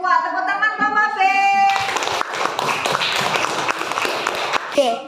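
A group of schoolchildren in a primary classroom clap together for their team, a dense burst of hand claps following a short sung phrase and lasting several seconds, close and loud, with a voice briefly at the end.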